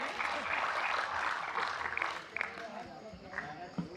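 Applause from an audience at an all-India Hindi poetry gathering, a busy patter of clapping that thins out toward the end, with voices mixed in.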